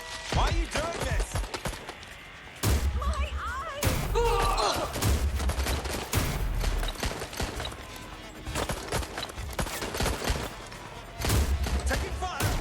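Gunfire in the video game Watch Dogs: Legion, with rapid bursts and single sharp shots mixed with thuds and mechanical clatter in a busy, loud game mix.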